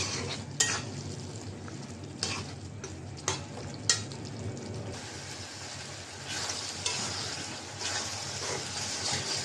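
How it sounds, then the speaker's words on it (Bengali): Ripe tomato cooks down with spices in a pan for a chicken bhuna, giving a constant soft sizzle broken by sharp scrapes and clinks of a stirring utensil against the pan. "পাকা টমেটো দিয়ে দিলাম টমেটোটা গলাই নিব আমি মশলার সাথে কষাইয়া"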